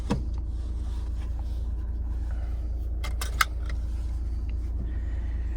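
A manual-transmission car's engine idles just after starting, a steady low rumble that runs throughout, with a brief electric window whir and a few clicks and rattles inside the cabin.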